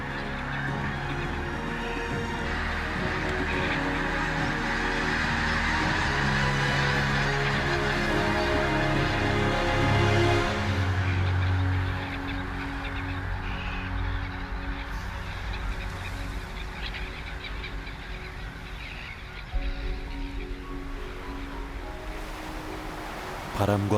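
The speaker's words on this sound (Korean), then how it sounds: "수천 마리 물새들의 장엄한 군무가 펼쳐집니다." Thousands of migratory waterbirds call on the exposed tidal flats of Yubudo island as the tide goes out, a loud, dense chorus of honking and piping over a steady wash of surf, continuing throughout.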